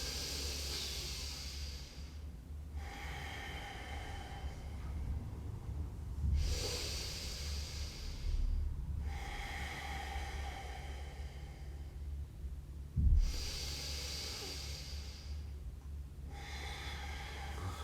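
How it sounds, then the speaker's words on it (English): Deep belly breathing during a guided yoga breathwork class: slow, close inhale-and-exhale cycles repeat about every six seconds over a steady low hum. "So keep breathing into the belly, exhaling, drawing the navel towards the spine."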